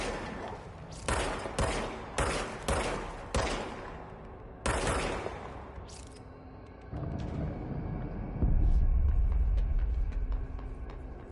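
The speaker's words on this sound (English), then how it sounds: "Okay, now I have a gun." Gunfire in the game Control: a string of sharp, evenly spaced close shots, a pause, another shot, then mechanical clicks and a rising low rumble of ambient noise.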